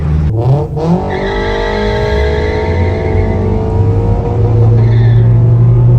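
A K24 AWD turbo car accelerates hard, its engine note climbing through rising revs with a brief tire squeal early on, loud and close, then settling into a strong sustained roar.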